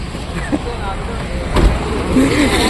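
A car pulls away on a Mumbai street after being released by police, its engine and tyre noise steady and moderately close, with a bump near the middle and people talking nearby.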